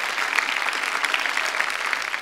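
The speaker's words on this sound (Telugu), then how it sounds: "చప్పట్లతో అభినందనలు తెలియచేద్దాము." Audience applause at a Telugu film music event, steady dense clapping throughout, moderately loud with no talk over it.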